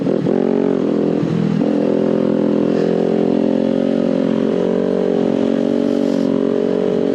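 A Kawasaki Ninja sport bike with clip-on bars roars steadily at speed, loud and close, its engine note holding a sustained drone with a brief dip and rise early on, no voices over it.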